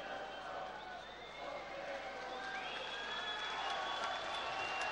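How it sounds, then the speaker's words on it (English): Boxing crowd applauding and cheering at a bout between Liam Walsh and Scott Harrison, a steady wash of clapping and cheers filling the arena throughout, with a commentator's voice faintly underneath. "now he's getting a very much more sporting acclaim from the crowd than he did when he came in"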